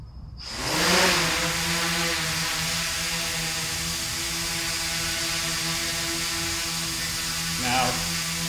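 VOXL m500 drone motors spin up for takeoff, with a rising whine that settles into a steady multi-tone buzz and then a brief surge near the end.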